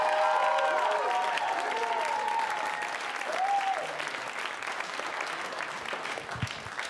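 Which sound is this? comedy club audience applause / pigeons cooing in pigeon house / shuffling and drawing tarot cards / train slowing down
comedy club audience applause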